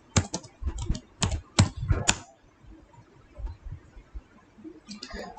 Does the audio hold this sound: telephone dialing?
no